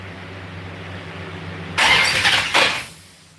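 A 1969 Dodge Charger with no fuel cranks over in a short burst of starter churning, loud and close, rising suddenly and pulsing unevenly before trailing off, with no catch.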